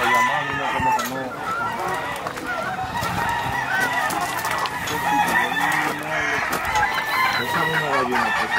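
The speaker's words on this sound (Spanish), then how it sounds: "Esa es una gallina, por favor." Poultry in a yard, with a hen clucking among other birds, a rooster crowing and goose-like honks in a dense, continuous mix of calls, some near and some farther off, with faint voices underneath.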